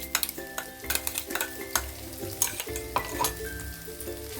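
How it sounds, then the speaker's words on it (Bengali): Green peas fry and get stirred in a wok for a kachori filling, with a soft sizzle under frequent sharp clinks and scrapes of a spoon against the metal. "কড়াইশুটিটা ভালো করে এটার মধ্যে ভেজে নেব"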